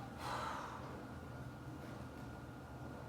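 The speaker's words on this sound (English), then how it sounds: "Big exhale." A big exhale during a lower body and spinal stretch, one breathy rush of air near the start that fades into a quiet, steady room background.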